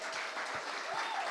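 Audience applause at an anniversary celebration, a dense burst of clapping from a crowd, fairly faint and distant, continuing without pause.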